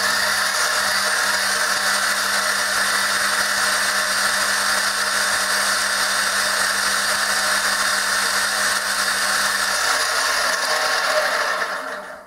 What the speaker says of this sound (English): we have a working lathe again